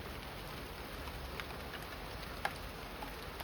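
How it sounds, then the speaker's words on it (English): Rain falling outdoors in Jamaica, a soft, steady hiss of drops with occasional faint ticks and patters, quiet and continuous with no voices. "So guys, it's raining right here in Jamaica"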